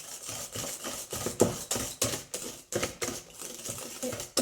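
A whisk beats flour into a strawberry tart batter in a bowl, giving rhythmic clicking strokes in a fast, even beat, close and fairly quiet, without voices.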